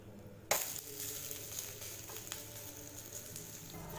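Ragi dosa frying in a hot pan, a sharp sizzle bursting in as the batter hits the surface, then a steady crackling hiss with scattered pops, close and alone without talk.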